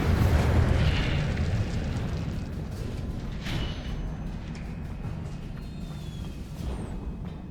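Incendio fire spell cast in the Hogwarts Legacy video game: a loud, steady roaring whoosh of flame with low rumbling bursts, holding strong throughout without speech.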